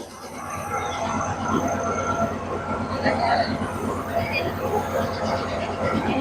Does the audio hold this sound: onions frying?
no